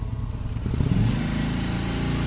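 A Harley-Davidson motorcycle engine rumbles close by, its deep throbbing note swelling as it revs up and then holding steady.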